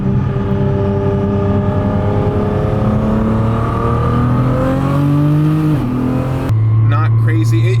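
A 1500 hp Ford Mustang with traction and stability control disabled accelerates hard, its loud engine drone climbing steadily in pitch before a gear change, heard from inside the car.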